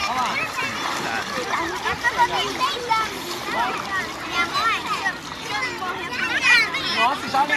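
Water splashing at a sandy beach while people wade in to knee depth, with irregular splashes close by under children's voices and chatter throughout.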